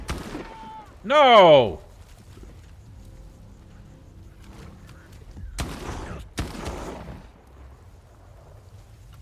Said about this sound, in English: Ow, you're shooting me